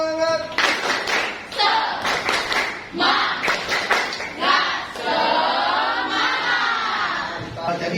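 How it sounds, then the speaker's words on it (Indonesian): A class of children performs the "tepuk semangat" spirit clap, a rhythmic patterned series of sharp clap bursts in groups, with their voices chanting and shouting along between and over the claps. "Tepuk semangat."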